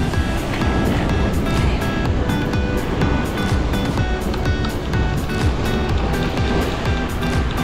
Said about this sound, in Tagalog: Laki ang alon